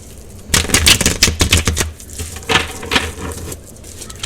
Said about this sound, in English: I gotta give it a good shuffle.